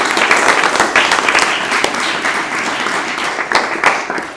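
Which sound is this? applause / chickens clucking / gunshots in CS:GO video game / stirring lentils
applause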